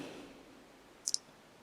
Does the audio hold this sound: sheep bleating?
no